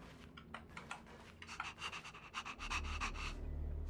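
A dog panting in the video game Honkai: Star Rail, quick rhythmic breathy puffs repeating close up, followed by a low rumble at the end, with no talk.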